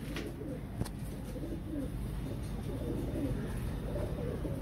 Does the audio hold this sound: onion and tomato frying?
no